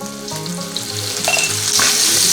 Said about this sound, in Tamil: கொஞ்ச நேரம் வெங்காயம் வதங்கட்டும்